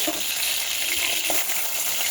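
Fish pieces fry to a reddish crisp in hot oil in a pan, giving a dense, steady, close sizzle without break.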